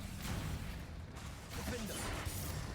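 Confringo blast spell cast in Hogwarts Legacy, a burst of whooshing, crackling impact noise over game background, fairly faint and lasting a few seconds.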